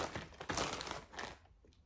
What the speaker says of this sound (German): mache ich die Tüte auf und wir werfen mal einen Blick in die Chips